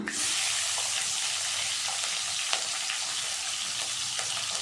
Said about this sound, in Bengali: ওই তেলে দিয়ে দেবো পাঁচ ফোড়ন সাবুত জিরা তেজপাতা কাঁচা লঙ্কা